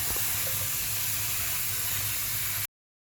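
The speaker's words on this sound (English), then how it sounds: "You want to wash your callaloo leaves thoroughly." Callaloo leaves washed under a steady rush of running water from a kitchen tap, a continuous broadband hiss of flowing water that stops abruptly near the end.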